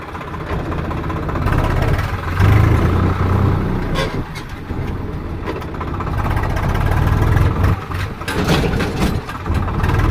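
A tractor engine runs loud and close, its low rumble rising and falling as it revs, with no talking.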